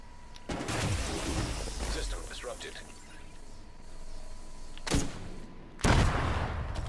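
Gunfire in The Division 2, sharp bursts near the start and a pair of loud reports toward the end over a busy game soundscape, with a voice talking throughout.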